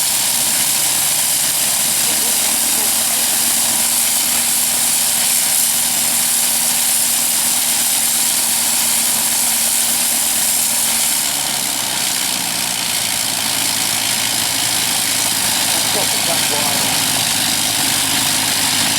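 A Sopwith Pup aircraft engine idles steadily at close range, a loud continuous rotary drone with a low throbbing underneath that shifts slightly partway through, while someone speaks briefly over it.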